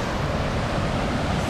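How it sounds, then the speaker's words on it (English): Aliwagwag Waterfall, the longest waterfall in the Philippines, roars as a steady, loud wash of rushing water with no breaks, close and unvarying. "this is the longest waterfall in the Philippines"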